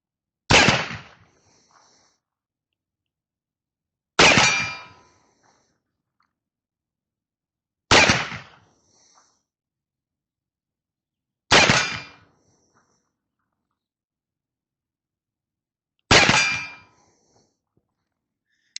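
Five sharp shots from an 1851 Navy black powder revolver, each ringing off a steel target with a brief metallic decay, spaced a few seconds apart and loud against near silence.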